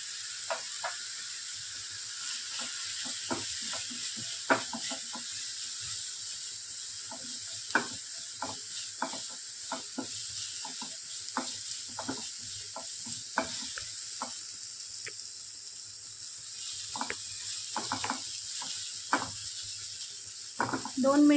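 Ground spices such as chilli powder, garam masala and turmeric sautéing in a hot pan, a steady close sizzle with repeated scraping clicks of a spoon stirring throughout, no talking.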